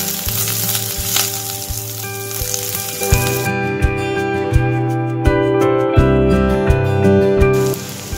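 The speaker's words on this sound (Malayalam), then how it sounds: "3 പച്ചമുളക് കട്ട് ചെയ്തത്, കുറച്ച് കറിവേപ്പിലയും കൂടി ചേർത്തിട്ട് നന്നായിട്ട് ഒന്ന് വഴറ്റിയെടുക്കുക." Shallots, green chilies and curry leaves sizzle loudly in a pan, with continuous crackling frying and a few clinks and knocks of stirring.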